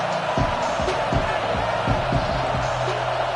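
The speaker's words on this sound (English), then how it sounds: "Big 3rd down as the crowd gets behind this defense." Football stadium crowd at a FAMU versus Florida game roaring steadily behind the defense on third down, a dense, continuous wash of cheering with a few sharper thumps and whoops rising out of it.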